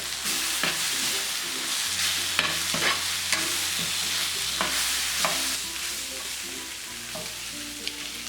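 Lobster masala with turmeric, garam masala and fenugreek powder being stirred in a pan, loud continuous sizzling broken by repeated sharp scraping strokes of a spoon, close up with no talking.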